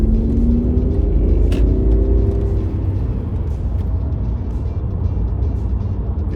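A high-mileage 2001 BMW E38 with a V12 engine rumbles loudly and close, rising briefly in pitch early on before settling into a deep steady drone.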